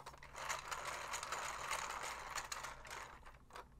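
The cranking mechanism of a toy gives a quiet, continuous mechanical rattle and ratcheting whir, like turning gears, running unbroken and without any voices.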